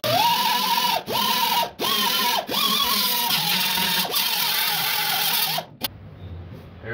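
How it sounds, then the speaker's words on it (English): A power screwdriver drives screws through a floor brace into the floorboard of a 1966 Comet, running in repeated steady whirring bursts of about a second each with short pauses between them, close and loud, then a final stop. "Now I'm screwing the floor brace down to the floorboard."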